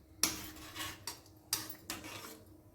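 A spoon stirs soya chunk gravy in a pan for an oil-free homemade soya chunks sabzi, giving about five sharp metallic clinks and scrapes at uneven intervals, close and clear with no talking.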